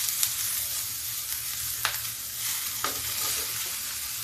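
Vegetables including eggplant sizzle loudly and continuously in a pan for watermelon sambar, with a few sharp clinks and scrapes of stirring up close and no voices.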